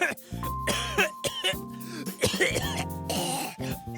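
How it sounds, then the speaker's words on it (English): A person coughs and clears their throat a few times amid background music and chatter. "drink this. It might get rid of that cough."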